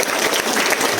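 A student audience at a school leadership training session breaks into a short burst of dense, loud clapping.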